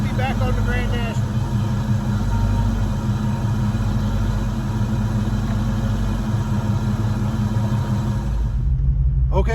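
A 1989 Mustang GT with a 5.0 engine runs steadily at a rough, rumbling idle, close and constant throughout before dropping away at the end.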